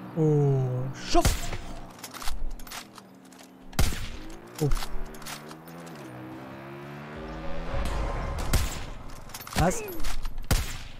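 Gunfire in the shooter video game Far Cry New Dawn, several sharp, loud shots spaced irregularly with echoing tails, over game music and effects, with someone briefly talking.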